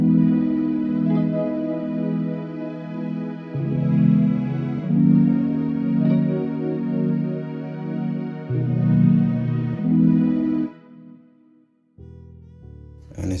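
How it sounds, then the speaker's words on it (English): Stereo strings synth preset in an FL Studio chilled jazz-inspired Afrobeat, sustained overlapping chords swelling and shifting every few seconds, fairly loud and alone before fading near the end. "Next thing I came in with is these stereo strings,"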